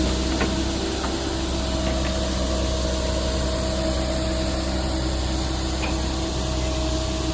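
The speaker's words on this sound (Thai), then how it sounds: "ข้างหน้าฮะซ้ายเป็นรถไถนะครับ ในการประคองแรงไว้ เอาไว้ดึงไว้ลาครับ" Farm tractor engine running steadily while pulling a trailer stuck in sandy soil on a farm plot, a continuous low rumble with a faint spray-like hiss, steady and fairly near throughout with no talk.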